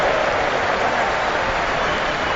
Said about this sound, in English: And a huge roar around the ground.